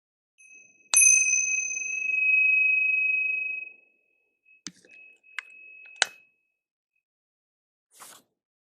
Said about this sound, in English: we're going to use our ritual chimes.